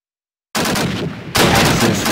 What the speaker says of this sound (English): Pistol.